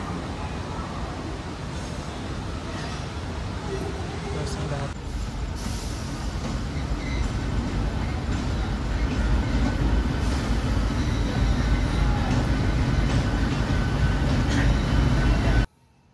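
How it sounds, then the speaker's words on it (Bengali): The Howrah–Asansol Agnibina Superfast Express pulls out of platform 12 at Howrah, a moderately loud rumble of wheels and coaches that builds gradually over the span, with faint station background and brief hissing accents. "আমাদের train Howrah Asansol Agnibina superfast express বেরিয়ে গেল তার গন্তব্য হাওড়া থেকে"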